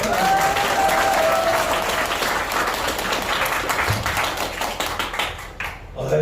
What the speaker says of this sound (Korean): 7강 강사님을 여러분들이 힘찬 박수로 모시겠습니다